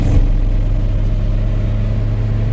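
A 1983 Toyota Tercel 4WD wagon with a newly replaced manual steering rack drives along, its engine a steady low drone with road rumble, continuous and close, with no talking.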